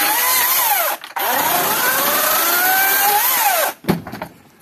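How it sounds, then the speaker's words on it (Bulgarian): A power saw cutting through wood at a village house, a loud, sustained whining buzz whose pitch rises and falls with the load, broken by two short pauses. "разцепва тук с резачката"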